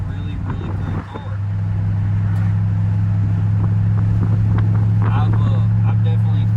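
A supercharged Pontiac GTO on the move, giving a steady low engine drone and road rumble that holds level throughout. A person talks over the engine.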